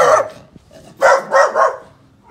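A guard dog barks close and loud at a house for sale: one bark, a short pause, then three quick barks in a row.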